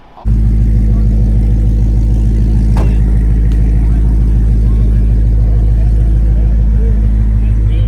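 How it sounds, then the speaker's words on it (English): A 2024 Mustang Dark Horse on a quarter-mile drag run, its engine giving a loud, sustained roar that starts abruptly and holds steady throughout, heard from inside the car. "First 8-second 2024 Mustang."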